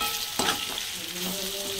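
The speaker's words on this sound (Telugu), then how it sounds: "ఇవన్నీ మంచిగా కలిసేటట్టు అయితే కలిపేసుకుందాం." Paneer curry with capsicum pieces stirred in a frying pan, a steady hiss of sizzling with a spoon scrape and clatter near the start, close and moderately loud with no talking.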